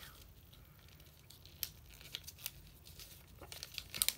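Paper is creased and folded for an origami dinosaur, giving soft close crinkles and a few sharp crisp snaps, with no talk.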